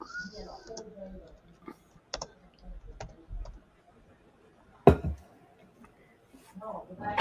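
Light, scattered clicks and taps on a computer keyboard, faint and irregular, interleaved with quiet talking close by.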